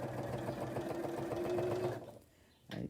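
A sewing machine stitching along a folded fabric edge, a steady close whirring hum for about two seconds that stops, followed by a short clatter.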